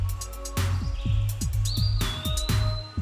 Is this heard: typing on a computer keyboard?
no